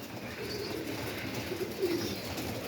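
Pigeons coo softly and steadily while being fed, with a low murmuring of several birds close by and no voices.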